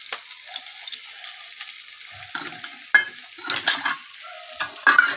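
Chopped carrot, onion, chilli, tomato, capsicum and garlic stir-fry for soyabean chowmein, sizzling steadily in hot oil, with a few sharp scrapes and clinks of a spatula stirring the pan, close and alone.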